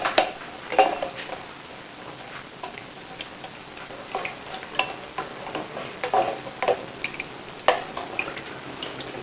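Air freshener ingredients being stirred together in a container, giving a steady run of soft ticking, clinking and sloshing strokes at close range, with no talk.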